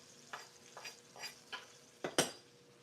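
Onions browning in a pan while a utensil stirs them, producing about six distinct scrapes and clinks spaced over a few seconds. A faint sizzle sits beneath them, and the last two strokes are the loudest.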